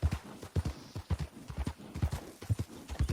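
Horse hooves clip-clopping in Red Dead Redemption 2, a steady rhythmic walk of sharp, close hoof strikes, about two per second, with no talk over them.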